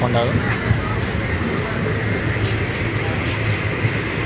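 An express train running, heard from on board as a steady, loud rumble with clattering wheels, while people talk nearby.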